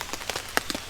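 Rain patters steadily on a tarp over a hammock at a camp with a wood stove in early fall, a soft continuous hiss with scattered distinct drops nearby.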